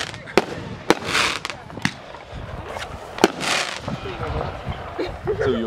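Backyard fireworks go off in a 2014 home display, a string of sharp nearby bangs and crackling bursts at irregular intervals, with people talking and reacting between the blasts.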